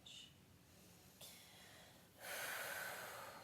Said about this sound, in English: Breathing, find that ujjayi.